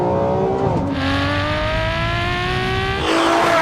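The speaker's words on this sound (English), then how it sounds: "this is a Ferrari 599 GTO" A Ferrari 599 GTO engine revs hard while driving, its loud, rising howl climbing steadily through the gears with a brief dip and upshift near the start and another surge at the end, close and continuous.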